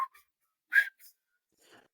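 A short whistled phrase imitates the McDonald's advertising jingle, made of a few brief, close, bright notes separated by silence.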